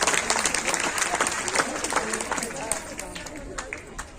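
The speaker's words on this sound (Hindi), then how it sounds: "जोरदार ताली बजा करके" Loud, sustained applause from a Hindi-speaking audience at an Arya Samaj gathering welcoming guests, dense clapping that carries steadily for several seconds with a murmur of crowd noise underneath.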